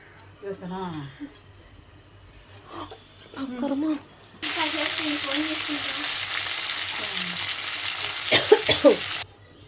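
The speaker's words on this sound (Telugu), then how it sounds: "1 టీ స్పూన్ ఆయిల్ వేసుకొని కడిగి పెట్టుకొని ఉన్న గోంగూర దాన్ని ఈ నూనెలో మనము వేయించుకోవాలన్నమాట" Washed gongura leaves drop into a teaspoon of oil in a kadai and burst into a loud, steady sizzle lasting several seconds, after someone speaks over quieter frying.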